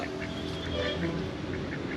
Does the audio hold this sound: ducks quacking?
yes